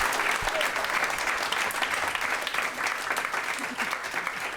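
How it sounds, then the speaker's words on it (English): Studio audience applause on a comedy podcast, a steady wash of many hands clapping that holds evenly for several seconds and fades slightly toward the end, with no talk over it. "Can we have a big round of applause for Miss Jess Perkins?"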